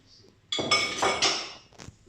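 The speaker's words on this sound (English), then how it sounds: "And we just mix all that together now, very gently." A utensil clinks and scrapes against a giant bowl while carrot cake bun batter is mixed, a few close, bright knocks over about a second and a half.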